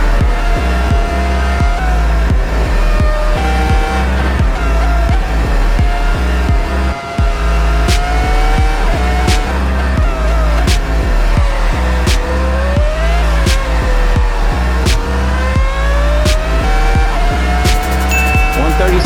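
Formula racing car engine, one of several eras of F1 machinery on a circuit, revving hard and shifting through the gears with a loud, continuous close-up roar and brief dips at each change, a voice talking over it.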